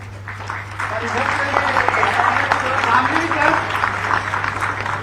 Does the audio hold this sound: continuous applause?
yes